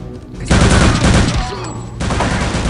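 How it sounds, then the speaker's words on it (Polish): Burst of gunfire in the Wolfenstein video game, a loud sustained fusillade of rapid shots with game music beneath, pausing briefly before firing resumes. "co to, z ziemi strzelają?"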